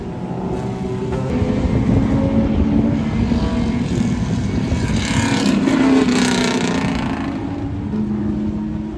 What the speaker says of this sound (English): this is a formation lap under the safety car, so they're restricted to a set speed.